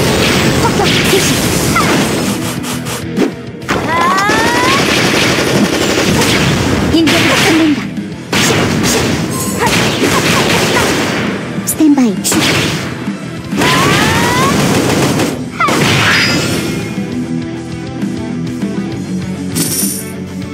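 Bombardment in the Closers video game, a continuous stream of loud booming blasts, crashes and swooshing impacts with rapid gunfire-like bursts, dense and unbroken throughout with brief dips between volleys.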